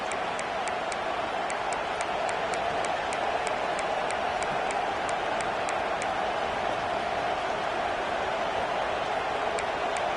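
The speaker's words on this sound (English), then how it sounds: "This crowd, full throat, splitting the eardrums and letting them know it's going to be a long day" A stadium crowd at a college football game roars in a dense, continuous wash of noise, loud and unbroken throughout with faint ticking over the top.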